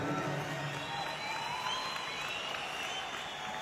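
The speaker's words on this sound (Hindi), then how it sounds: "ताली बजनी चाहिए।" An audience at a network-marketing meeting gives steady, moderate applause and crowd noise for Manchand sir, a continuous wash of clapping with some distant cheering.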